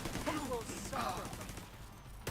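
A turret firing in a video game gives a rapid, ongoing crackle of shots at moderate volume, under a talking voice, ending with a sharp louder burst.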